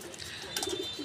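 Pigeons from a large collection being sold coo softly in low, murmuring bursts, fairly faint against a steady background hum.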